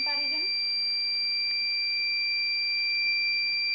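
A steady, piercing electronic buzzer tone from a power failure indicator alarm sounds continuously and alone, unchanging from start to finish.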